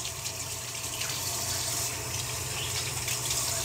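Filtered water pours steadily from a container into the pot of a dry houseplant indoors, a continuous close gushing trickle that stays even in level throughout.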